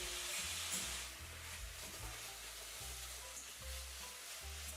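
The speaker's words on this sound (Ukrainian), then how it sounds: "І викладаю інтенсивно розминаю виделкою." Minced meat sizzles in a pot while being mashed with a fork, a soft steady hiss with repeated low scraping and stirring thumps, close but faint, no talking.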